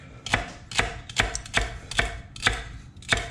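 A knife chops celery on a cutting board in steady, evenly spaced sharp taps, about eight strikes in quick rhythm, close and clear with no talk.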